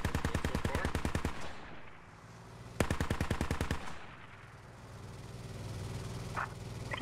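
Sustained automatic gunfire rattles in two long fast bursts during a Squad military-shooter battle, loud and close with a steady rhythm, separated by a lull of low rumbling ambience.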